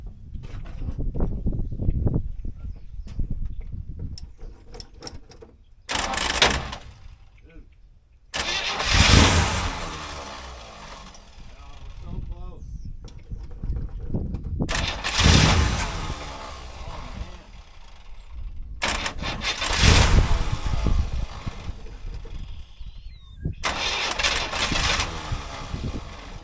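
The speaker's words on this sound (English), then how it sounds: "Every time it fires a little bit, I hear stuff flying out of the exhaust." Old Chevy square body farm truck that sat for 15 years, its engine cranking repeatedly and catching in brief rough firings, with loud sputtering bursts between stretches of starter churning, close by.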